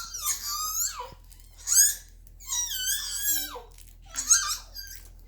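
A baby girl lets out a series of high-pitched squealing screeches, four or five separate bursts with short pauses between them, loud and close.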